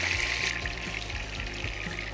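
Soya chunks frying in sunflower oil in a pan, a steady close sizzle and crackle with soft stirring clinks, no speech.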